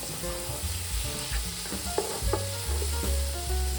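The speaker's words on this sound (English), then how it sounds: "Let the carrots saute with the other ingredients for about 2 minutes." Chopped carrots sauté with other ingredients in a pan for a vegetable gluten-free lasagna, giving a steady close sizzle with scraping stirs and light clatter throughout, no voices.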